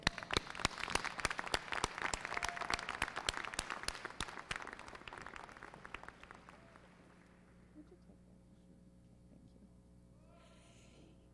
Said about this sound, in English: give ourselves a round of applause for caring about kids in the Utica Community Schools